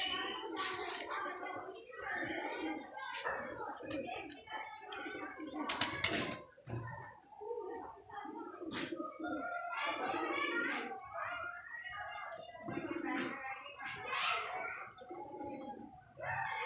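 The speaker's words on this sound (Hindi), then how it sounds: "लो जी, ये कबूतर है दोस्तों" Pigeons coo repeatedly close by while people talk, with occasional rustling and handling noises.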